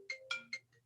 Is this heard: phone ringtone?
yes